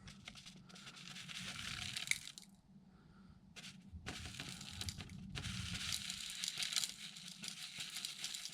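Paper or a bag being torn by hand, a long rough ripping and crinkling sound that comes in a couple of loud bursts with a brief quiet gap, close up, with no talking.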